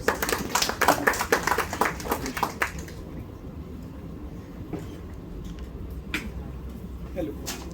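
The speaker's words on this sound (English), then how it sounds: "So please, first of all, have a round of applause for yourself." Brief round of applause from a conference audience learning OpenTelemetry, dense clapping for about three seconds before dying away into quiet room murmur with a few scattered claps.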